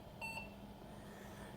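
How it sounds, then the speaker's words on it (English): A single short electronic POST beep at startup from an RM Accelerator PC, clear and high-pitched, over a steady low hum of machine fans. "yep, we have a post beep."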